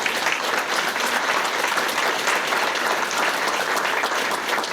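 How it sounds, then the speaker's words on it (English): Steady applause from a crowd at a scholarship ceremony, a dense wash of clapping that holds at an even level throughout with no voices over it. "How about a round of applause for them?"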